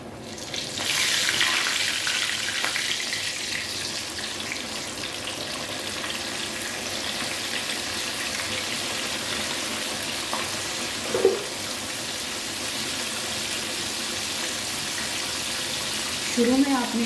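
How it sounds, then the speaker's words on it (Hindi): Chicken pieces for a zinger burger fry in hot oil with a steady, even sizzle that starts about a second in and lasts throughout, joined by a few faint clinks. "ऑयल मैंने गर्म करने के लिए रख दिया था, तो अब मैं इसमें चिकन डाल दूँगी।"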